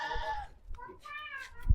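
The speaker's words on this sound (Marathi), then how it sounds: "या बघा मित्रांनो शेळ्या" Goats bleat at a goat farm, a couple of quavering calls close by, one after another, with faint background noise between them.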